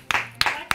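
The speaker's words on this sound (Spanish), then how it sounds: "cada vez quedamos menos personas aplaudiéndolo" A small studio audience on a Spanish-language comedy show gives sparse applause: three separate, fairly loud claps spaced evenly, with no crowd noise in between.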